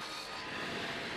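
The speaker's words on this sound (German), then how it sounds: "Am Rande der Stadt liegt die Sägerei de Quecquerre." Wood being sawn at a sawmill in France, a steady, dense rasping grind that runs unbroken and fairly quiet for just over a second.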